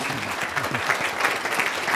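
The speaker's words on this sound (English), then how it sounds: "if you would all join me in a round of applause for our founders" Audience applause at a founders panel session, a dense steady wash of clapping from a seated crowd that fills the whole moment without pause.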